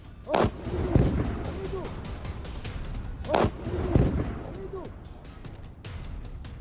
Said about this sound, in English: Israeli shelling along the border with Lebanon.